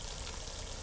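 Two sliced onions sizzle in a pan while a Pakistani mixed achari vegetable dish cooks, giving a soft, steady, hissing fry throughout with no breaks.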